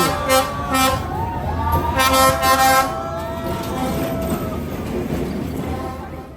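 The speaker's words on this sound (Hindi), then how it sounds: "I'm feeling very excited to welcome the train" A train rolling along a narrow train street in Vietnam, a loud continuous rumble with screeching wheel tones and a horn-like toot, close up, with voices faintly underneath.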